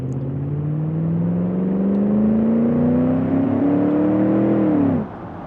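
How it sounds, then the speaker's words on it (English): A steady engine whine in the video game Automation Car Tycoon climbs gradually in pitch for several seconds, then drops off sharply as the revving cuts out. "Start the engine up."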